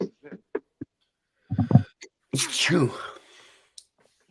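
A sharp, loud sneeze bursts out mid-clip, close and sudden, after a few soft breathy sounds, followed by a quiet exhale.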